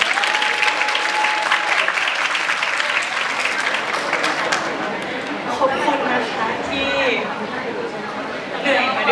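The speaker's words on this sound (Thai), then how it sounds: "หนูขอเสียงปรบมือให้พี่ๆทุกคนด้วยนด้ะ" Loud, dense applause from the audience at the Miss Grand Suphanburi Mukdahan 2025 final show farewell fills the hall without a break, with a voice and chatter mixed in.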